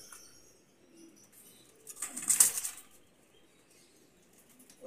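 Golden breeder pigeons flap their wings in one brief burst and coo softly against a quiet background.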